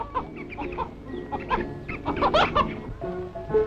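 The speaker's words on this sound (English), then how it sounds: "a favorite with the young is poultry keeping" Chickens clucking and crowing in a school poultry yard, a busy overlapping chorus of several birds close by, with no talking.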